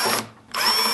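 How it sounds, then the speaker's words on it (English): Power drill used during a repair job, whirring loudly, then pausing briefly before spinning up again and running steadily to the end, with no talk over it. "I think I'm going to have to drill a little bit."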